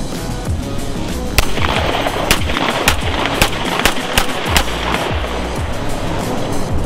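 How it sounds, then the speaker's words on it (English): Colt 1911 pistol shots in a video game, about eight sharp, loud cracks fired at irregular intervals over a constant noisy background. "I still have some rounds left, so let's shoot him in the face."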